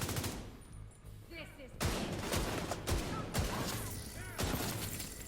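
Chain Killer shotgun fire in The Division 2, a series of heavy, booming blasts spaced roughly a second or so apart over steady game background noise, with brief voice fragments mixed in.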